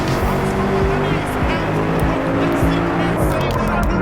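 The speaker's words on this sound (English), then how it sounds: "Take a listen to this engine, man. It just freaking roars." Loud, continuous engine roar of a Mercedes C63 in the racing game Driveclub, a steady high-revving growl with tire noise, filling the whole stretch without pause.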